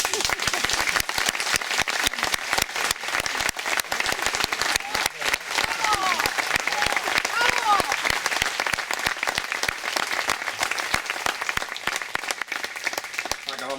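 A hall full of neighbors applauds the town crier at the 2015 Fiestas de las Nieves festival proclamation. Crisp, dense hand clapping continues steadily for over ten seconds.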